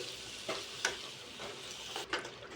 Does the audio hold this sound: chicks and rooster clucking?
no